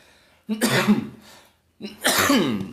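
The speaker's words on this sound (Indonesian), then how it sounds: "Batuk." Two harsh, close coughs a second apart, each a rough burst from the throat, with a short pause between.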